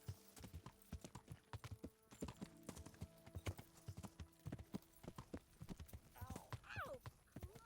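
Horse hooves clip-clop steadily in the medieval video game Kingdom Come Deliverance, a quick, crisp, even rhythm close by, with a brief voice rising near the end.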